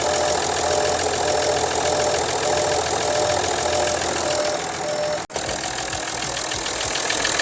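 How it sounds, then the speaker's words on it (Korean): An Audi diesel engine idles steadily and loudly throughout after timing chain guide repair, with a constant low rumble and a faint rhythmic knock, interrupted by a sharp click near the end. "이렇게 엔진 소리가 많이 조용해진 거를 확인을 할 수가 있었고요."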